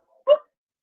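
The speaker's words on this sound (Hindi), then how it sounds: "ये कुत्ता भी भौंक रहा है इनका।" A single short dog bark, brief and fairly clear, isolated against silence.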